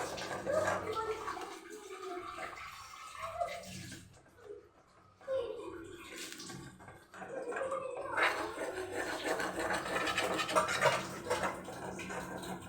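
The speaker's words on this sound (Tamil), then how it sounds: "நல்லா காய வச்சு தான் முட்டையை ஊற்றிருக்கேன்" Beaten egg cooking in a hot pan with the stove on low, giving a soft, steady sizzle and frying crackle throughout, with quieter patches partway in and a voice speaking over it.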